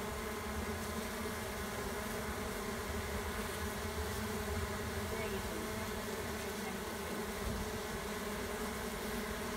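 A collected honey bee swarm fans at the hive entrance, making a dense, continuous buzzing hum that stays steady and close with no pauses.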